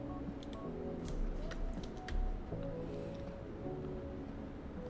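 In-game phone in GTA IV dialing a call, a run of short electronic tones and beeps over a low game background hum, with no voices.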